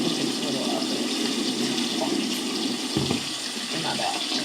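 Tap water runs steadily into a sink during a clay and turmeric facial routine, a constant close rush with no pauses.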